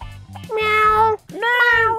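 Children mimic a cat in a classroom, producing two long, loud, sustained meowing cries one after the other, close and clear, with no other talk.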